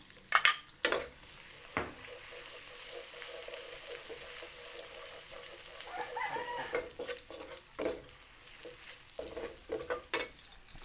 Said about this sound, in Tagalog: At mag-gisa muna tayo ng bawang.